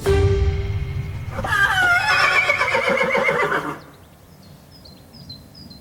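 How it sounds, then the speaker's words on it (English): A gold-medal-winning competition horse gives one loud, drawn-out whinny close by, after a rumbling start. Light bird chirps follow in the quieter background. "Lee has been having doubts about his relationship with his gold medal winning horse, Gentleman."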